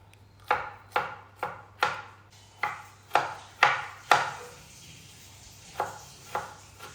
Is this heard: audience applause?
no